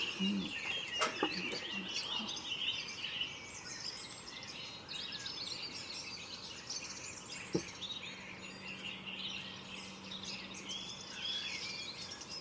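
Birds call and cluck in a quiet natural setting free of human noise, with a rooster-like fowl among them; bright chirps and calls overlap throughout, one sharp knock stands out midway, and a soft low hum runs underneath near the end.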